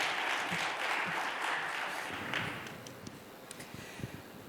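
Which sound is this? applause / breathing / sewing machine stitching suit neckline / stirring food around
applause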